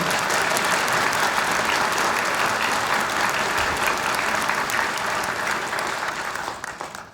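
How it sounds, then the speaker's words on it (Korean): An audience at a justice ministry address breaks into sustained applause, a broad, even wash of many hands clapping that holds steady for several seconds before tapering off at the end. "제가 부탁드렸는데 박수 안 치십니까?"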